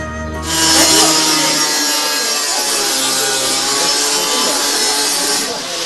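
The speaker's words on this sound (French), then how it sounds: "La caisse de bois est finalement ouverte grâce à une scie électrique." An electric saw cuts steadily through a wooden crate with a loud, continuous rasping whine that holds for several seconds.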